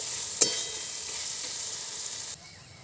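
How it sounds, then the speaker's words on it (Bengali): Spice paste fries and is stirred in a pan, giving a steady close sizzle with a single scrape of the spoon early on and a brief drop in the hiss near the end. "মশলা কষে নিয়েছি"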